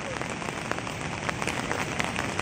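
Steady rain falling near a river in hilly country during a fishing outing, a dense continuous patter of drops on surfaces with no pauses, moderately loud and alone, with no voices.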